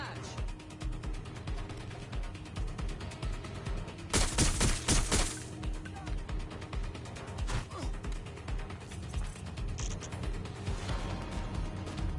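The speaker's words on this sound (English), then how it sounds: "That was a gun!" Gunfire in Watch Dogs, a dense burst of shots and crashing impacts around 4 to 5 seconds amid a constant din of action noise and game score.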